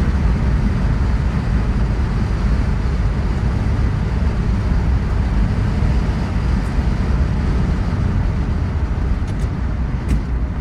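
A car engine drones loud and steady from inside the car while driving, a continuous low rumble with little variation and no audible talking.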